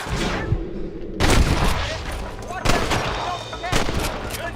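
Gunfire in Red Dead Redemption: heavy, booming shots crack out at intervals, each followed by a rumbling echo, with distant shouts and game sounds beneath.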